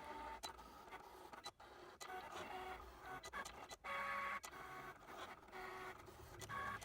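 A Cricut cutting machine runs through a print-then-cut job on paper images, a steady whirring motor with rapid carriage movements and short clicks and pauses, close and continuous.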